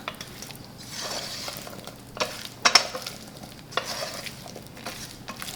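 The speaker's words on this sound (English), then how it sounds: "stir it up" Black pepper potatoes with fresh cilantro being stirred in a pan, soft scraping and sizzling with a few sharper clinks near the middle, close and steady with no voices.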